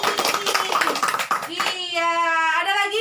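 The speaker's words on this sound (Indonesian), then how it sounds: "Tepuk tangan dulu buat Bu Ani" A small group claps briefly for a woman at a community PKK women's group session, a short patter of hands mixed with voices, followed by someone speaking and a sung or drawn-out tone.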